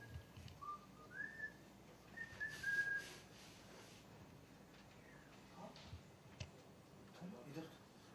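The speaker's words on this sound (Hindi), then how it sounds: "तुमने वो सीटी बजाई" On a location set for a TV serial, a person whistles a short, rising and falling tune in the first few seconds, fairly faint amid background chatter and people talking.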